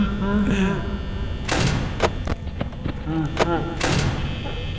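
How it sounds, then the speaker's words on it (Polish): Someone talks over repeated thumping and sliding of the heavy security doors being shut and reopened in the Five Nights at Freddy's video game, several quick door bangs close together. "I tak muszę co chwilę te drzwi zamykać."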